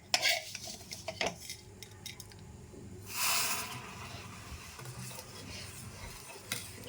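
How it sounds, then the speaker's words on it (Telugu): Vermicelli is tipped into a pot of boiling milk for kheer, with metal spoon clinks and scraping against the pot, then a soft rushing pour and gentle stirring, close and fairly quiet. "ఇప్పుడు సేమియా వేసేద్దామండి."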